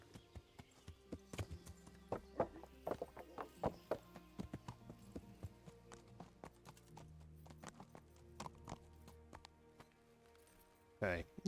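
Horse hooves thudding in Kingdom Come: Deliverance, a steady rhythmic clopping of a horse heading up toward a castle, fairly faint and continuous under the game's ambient sounds.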